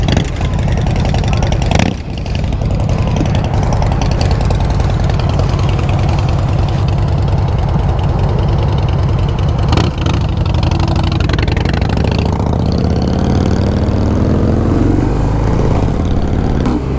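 A 2019 Harley-Davidson FXDR with a 114 engine idles close by, a loud, steady, throbbing rumble with a couple of brief bumps and a slight shift in pitch toward the end.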